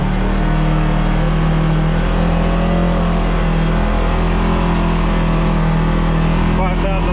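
A 2026 Polaris RZR XP-S Ultimate side-by-side engine running in low gear, a loud steady drone held near one pitch, close and continuous with no talk over it.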